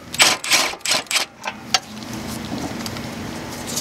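A wrench loosens a bolt on a 2014 Cadillac XTS, with a quick series of about six sharp ratcheting clicks and clacks, followed by quieter low rustling and handling noise.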